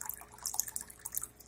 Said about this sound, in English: I'll just pour the rest of the water into the tank.